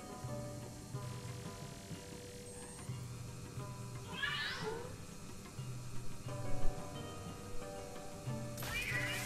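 A ghost cat in Luigi's Mansion 3 meows once, a rising and falling wail in the middle, over a quiet game backdrop of soft steady tones and rain-like hiss, with a brief noisy burst near the end.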